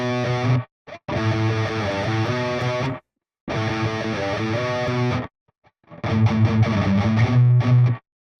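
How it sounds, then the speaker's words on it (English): A distorted electric guitar riff with palm-muted chugging, played in several loud bursts separated by brief gaps, heard alone without talk. "And right there, that's just palm muted."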